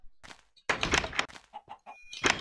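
Chickens clucking in Minecraft, a handful of short bursts with brief gaps, fairly close and moderately loud, with no talk over them.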